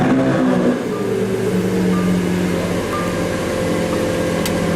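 A 2017 Lamborghini Aventador S engine idles with a deep, steady rumble after starting, loud and close, holding a constant throb throughout.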